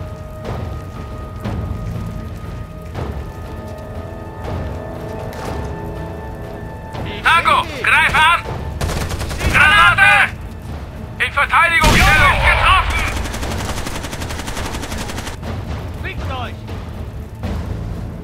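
Gunfire in Rainbow Six Vegas during the Nevada Dam mission: several loud bursts of shots in clusters midway through, separated by quieter stretches of ambient game sound, with voices in German heard around them.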